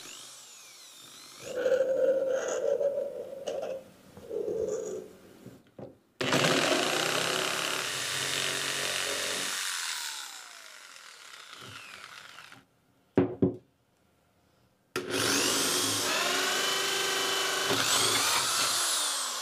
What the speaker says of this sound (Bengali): ভিউ ফাইন্ডারটিকে বসানোর জন্য পাইপে আমরা এরকম দুটো ফুটো করে নিচ্ছি